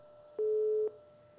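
Repeated busy-signal tone from a telephone line after a viewer's call to a live TV economics program drops: two short beeps, then one long steady tone, loud and clean, with no talk.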